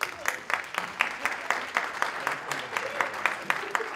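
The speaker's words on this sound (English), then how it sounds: "Let's give a round of applause for George here" Audience applause for a team member at a social media and sports event, a steady patter of many hands clapping with fairly even rhythm across a few seconds, moderately close and not very dense.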